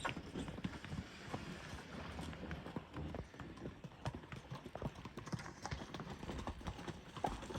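Horse hooves clip-clop on firm ground as a mare and a young colt move together, with an uneven, overlapping rhythm of footfalls, some creaking of tack or harness, and faint talk in the background.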